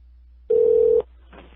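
A single steady telephone keypad tone sounds for about half a second, loud and close, followed by a brief faint burst of line noise.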